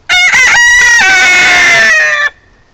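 A pet rooster in a backyard flock crows loudly and close by, one full cock-a-doodle-doo lasting about two seconds before it breaks off into quiet.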